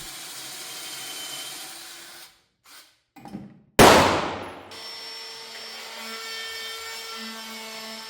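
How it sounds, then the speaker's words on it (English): A router cuts a shadow line into 2x4 scrap wood for the aprons of a modern end table, giving a harsh burst of cutting noise that fades out. Brief pauses and a steady motor hum surround the cut. "So just routing in a shadow line on the aprons."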